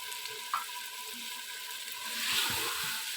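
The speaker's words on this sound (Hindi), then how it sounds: "आलूओं को भी थोड़ा सा पका लेंगे" Large potato pieces frying in tomato masala in a pan for an aloo chana dal gravy, a steady close hiss of sizzling with a brief clunk early on and soft stirring thuds near the end, no talking.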